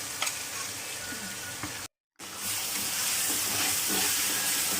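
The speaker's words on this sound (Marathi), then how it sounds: "चांगलं लालसर होईस्तोवर भाजायचं, तेल सुटीस्तोवर चांगलं." Onion and ground masala paste frying in oil for a paneer masala gravy: a steady, close sizzle with bubbling crackle, broken by a brief cut to silence midway, then resuming louder.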